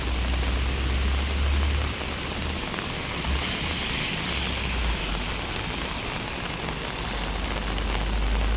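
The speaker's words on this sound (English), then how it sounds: "it's been raining for 2 days and 2 nights now" Heavy rain falls steadily after two days of downpour near a flooded, closed-off bridge, a dense continuous hiss with low rumble that holds loud and unbroken throughout.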